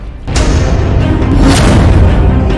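Russian artillery and rocket fire strikes the Kharkiv area, heard as a loud, continuous roar of booming, rumbling blasts with sharp bursts layered throughout.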